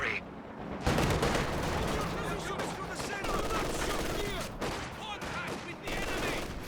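Anti-tank guns fire on a Soviet T-34 tank in the Company of Heroes 2 strategy game: dense, repeated sharp gun blasts and rumbling artillery overlap in a busy, continuous battle din.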